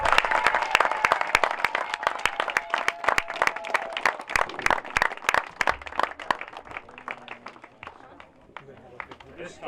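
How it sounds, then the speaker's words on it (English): An audience at a high school career pathway ceremony claps loudly, the sharp claps dense and fast at first, then thinning and easing off toward the end, with some voices underneath. "Let's give them all a round of applause"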